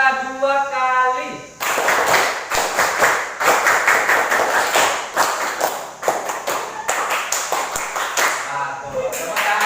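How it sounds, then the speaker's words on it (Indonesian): Schoolchildren in a classroom perform the Pramuka scout clap pattern, a loud burst of rhythmic, sharp group clapping that runs steadily for several seconds after a brief spoken cue. "Tepuk pramuka 2 kali."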